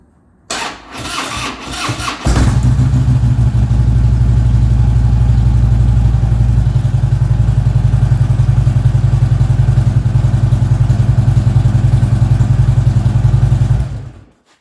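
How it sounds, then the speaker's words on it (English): A Harley-Davidson motorcycle is started with the electric starter: a couple of seconds of cranking chatter, then the engine catches and settles into a loud, deep, steady idle that runs for about twelve seconds before cutting off, with no talking. "I'm gonna hit the starter."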